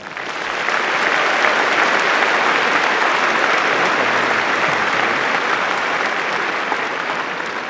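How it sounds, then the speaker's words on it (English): Graduation ceremony audience at a university engineering commencement breaks into a sustained, steady round of applause that swells in and holds evenly throughout, broad and dense like a large hall crowd. "Please join me in congratulating them with a round of applause."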